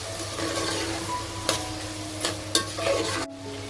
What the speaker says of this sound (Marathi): आता टाकलाय टमाटर, मिरची सुद्धा ऍड केलेली आपल्याला व्यवस्थित मिक्स करून घ्यायचे.